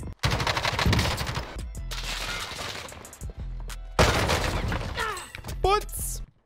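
Bursts of M16 rifle fire in the Call of Duty Warzone shooter, loud and close, in several rapid volleys separated by short gaps, with brief whooshing effects near the end and someone talking between shots.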